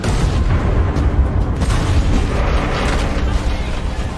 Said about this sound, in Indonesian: 2 mobil pasukan cepat tanggap yang terus melaju kembali terjebak dan meledak saat memasuki kawasan ranjau.